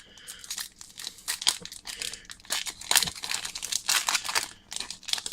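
A Pokémon booster pack foil wrapper crinkles and tears as it is opened, close by and continuous, with uneven rustling bursts throughout.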